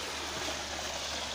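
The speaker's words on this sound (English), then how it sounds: "We are listening to the noise of the water." A small river flows beside a tropical jungle waterfall, giving a steady, close rushing wash of water with no voices over it.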